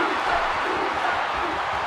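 Wrestling arena crowd in WWE 2K16, a dense roar of cheering that holds steady and loud without a break.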